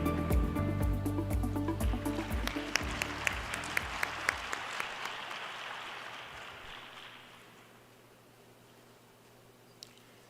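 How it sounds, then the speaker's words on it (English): Applause from an audience at an opening ceremony welcoming a president to give a keynote address, dense clapping that thins into scattered claps and fades away to near silence by about seven seconds. "Please welcome Mr. President with a warm round of applause."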